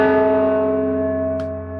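A single large church-style bell strike rings out, its rich, sustained tones decaying slowly, with a brief faint tap or click near the end as the tone fades.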